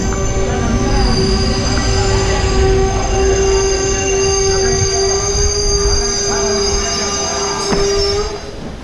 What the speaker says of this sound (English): So we just reached the Kyatsandra railway station.